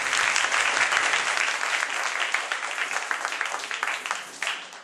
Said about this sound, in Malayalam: ഒരു ബിഗ് ക്ലാപ്പ് കൊടുക്കാം.